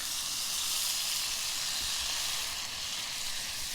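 Soy sauce sizzles in hot butter in a frying pan, a steady, close, fairly loud hiss that runs unbroken with no talking.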